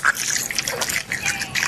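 Liquid pours and trickles with a frothy, splashing texture, steady and close for under two seconds, with faint voices in the background.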